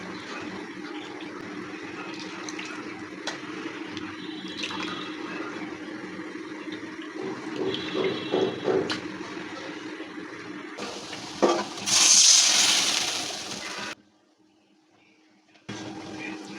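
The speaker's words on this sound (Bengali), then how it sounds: "হালকা কুসুম গরম জল, হাত দিয়ে ধরা যাবে এরকম একটু গরম জল দিয়ে একটু ধুয়ে নেব" Chicken pieces are rinsed with lukewarm water, giving a steady running and splashing water sound that swells into a louder gush before cutting off abruptly, then quiet.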